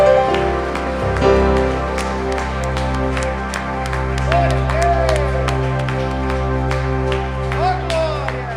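A church congregation applauding during a Sunday worship service, clapping layered over sustained music and voices, with a sharp burst of claps early and scattered clapping throughout.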